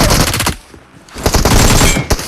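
An AK rifle fires in PUBG Mobile, with loud, rapid automatic bursts close by, a brief pause, and then more fast strings of shots.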